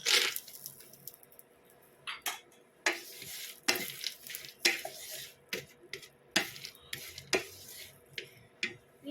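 Roasted peanuts are stirred in a sizzling pan over medium heat, with sharp metallic scrapes and clatters of a spoon against the pan coming in irregular bursts over a low frying hiss, close and fairly loud, no talking.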